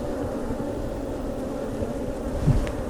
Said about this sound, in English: I don't like making these bees